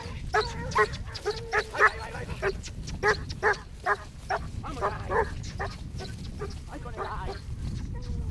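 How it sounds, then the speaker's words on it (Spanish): Barks and yelps from a hunting dog tracking a wild boar trail ring out in quick repeated bursts, sharp and fairly near, over a rough outdoor background. "qué pena esa voz, que no tiene una voz bonita este perro"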